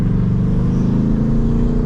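A 2024 Mustang GT convertible's V8 engine rumbles steadily up close, a loud, continuous low growl with no talking.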